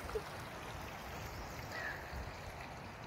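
Rainwater runs in a small stream in the Himachal hills, giving a faint, steady trickle and babble heard from nearby with no other sounds over it.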